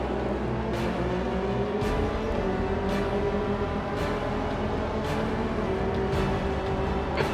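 Race cars in Assetto Corsa drone at close range with a continuous engine whine shifting in pitch, as another car runs alongside on the right; brief regular clicks punctuate the steady roar.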